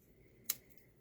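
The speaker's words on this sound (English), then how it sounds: "Cut some of that extra off right there." A single quiet, crisp snip of scissors cutting extra fabric off a sewing piece, heard once in near silence.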